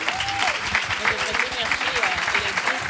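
A church audience applauds during a talk show: a thick wash of clapping carries on steadily, with a few voices calling out over it.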